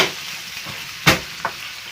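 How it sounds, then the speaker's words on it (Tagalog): Corned beef sautéing with onion in a pan gives a steady soft sizzle, with one sharp stir or scrape near the middle and a smaller one shortly after. "Nanigisa natin ang corned beef sa minsan sibuyas."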